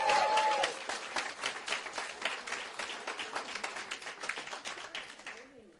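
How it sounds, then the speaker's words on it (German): Crowd-style clapping and applause at an Eisbären ice hockey fan talk event, loud and dense at first, then thinning into a steady patter over several seconds before trailing off. "Wir haben vorbereiteten Applaus. Kannst du dann einspielen, wenn keiner klatscht"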